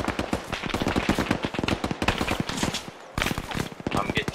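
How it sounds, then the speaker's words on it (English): Gunfire in ARMA 3 during a Delta Force-style operation, dense rapid shots and bursts from nearby weapons with a brief lull, mixed with occasional voices. "I'm getting shot at through the smoke to the east."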